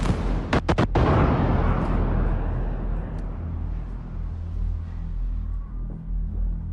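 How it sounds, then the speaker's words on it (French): Missile explosions boom over Dubai, a few sharp cracks followed by a heavy, far-off blast that rolls and rumbles away slowly across the city. "Des tonnes de missiles sont en train de retentir dans la ville de Dubaï et à Abu Dhabi."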